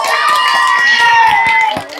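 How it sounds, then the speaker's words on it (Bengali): Crowd at a village girls' funny game contest, wheel rolling and bottle knockdown, cheering loudly for a contestant, with shrill children's shouts and scattered claps in a steady, continuous roar that tapers off near the end. "আমার এই প্রতিযোগীর জন্য জোরে করে করতালি হয়ে যাক"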